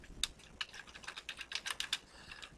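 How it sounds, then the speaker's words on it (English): Fingers typing on a computer keyboard in a quick, uneven run of sharp clicky keystrokes, close and fairly quiet, with brief pauses between clusters of taps and no voices. "I'm typing like I'm on a typewriter"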